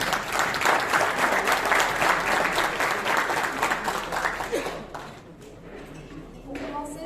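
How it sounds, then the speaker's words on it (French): Audience applause for a consul general at a consular meeting of a cultural circle, a dense, loud round of clapping that thins and fades out toward the end, with a voice faintly audible underneath. "je vous demande d'applaudir s'il vous plaît"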